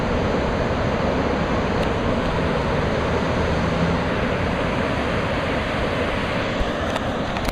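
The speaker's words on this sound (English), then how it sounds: "Here comes another wave, and maybe one will go." Ocean surf at a beach where surfers ride, a continuous, loud roar of breaking waves and rushing water with some wind buffeting the microphone.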